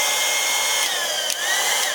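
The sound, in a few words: heat gun blowing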